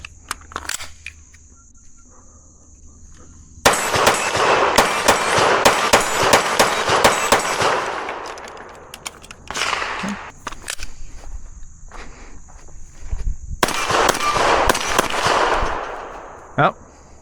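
Sharp reports from a P30L replica pistol fitted with a Wicked compensator, non-ported, fired in quick strings of loud close shots with pauses between bursts and a feeding stoppage, with brief talk in places.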